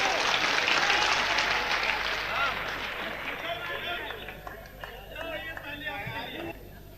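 A large audience at a Hindi poetry recital (kavi sammelan) in Dewas claps loudly, with dense sustained applause that gradually thins into scattered claps, while a voice speaks over it.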